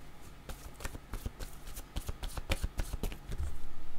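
Word cards are shuffled at close range in a steady run of crisp riffles and soft slaps, with a louder burst of shuffling toward the end and no voices over it.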